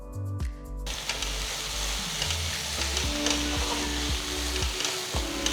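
Squid masala with freshly chopped coriander being stirred in a hot pan: a continuous frying sizzle with repeated knocks and scrapes of the ladle against the pan, no voices.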